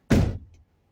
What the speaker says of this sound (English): And when you shut the door,